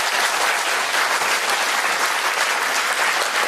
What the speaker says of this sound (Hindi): चलो सब लोग एक बार अपने लिए ताली बजाओ अच्छे से, जोर से,